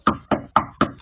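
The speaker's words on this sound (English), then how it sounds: "It seems a lot of knocking, doesn't it?" Four sharp, evenly spaced knocks land close and loud within about a second, each with a quick decay and no other sound.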